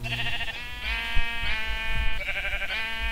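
Repeated wavering bleats from sheep in Minecraft, about four close, loud calls in a row with short pauses and light game noises between them.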